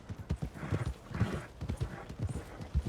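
Horse hooves clip-clopping on a ride in Red Dead Redemption 2, a steady close rhythmic beat of hoof strikes with a soft snort or two.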